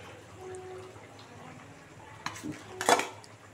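Foli fish dropped into a cooking pan with cauliflower, a couple of sharp clattering knocks of metal and utensils near the end after a quiet stretch of faint kitchen background.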